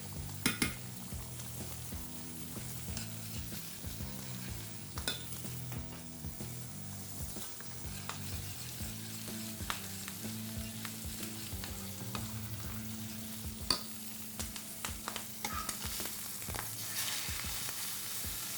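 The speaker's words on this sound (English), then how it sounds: "Bacon chop is frying." Steady sizzling of a bacon chop frying in a pan, continuous and close, with occasional stirring scrapes and a light clink of utensils.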